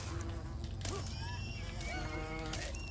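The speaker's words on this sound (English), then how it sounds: "These people are just getting absolutely attacked by bees. So many bees." Swarm of bees attacking people in Fable Anniversary, a dense buzzing drone with whining tones and sharp game cries layered over it, continuous and close.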